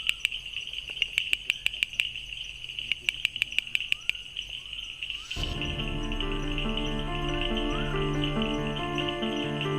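A male bush frog calls in a series of sharp, rapid clicking chirps in quick bursts, fairly close. Midway through, a denser, steady layer of tones and hum takes over.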